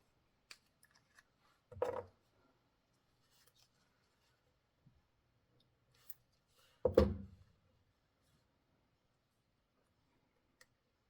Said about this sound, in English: I went ahead and clipped off the bottom so that I can scooch it underneath of that die cut doily